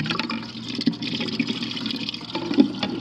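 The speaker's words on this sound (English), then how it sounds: "I can hear the drain coming through there" Water running through a household plumbing drain, a continuous close gurgling wash with small splashy bursts, steady and moderately loud throughout.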